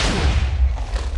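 Video game explosion at a railroad crossing, a loud deep boom and rumbling thud filling the whole brief moment, close and heavy, without speech.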